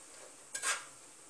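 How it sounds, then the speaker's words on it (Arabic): Chicken being flipped in a cooking pot while making a quick Sahrawi-style rice dish, heard as one brief, soft scrape and stir against the pot in a quiet kitchen. "نقلب الدجاج ديالي"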